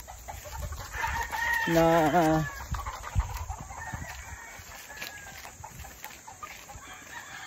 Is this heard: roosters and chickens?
yes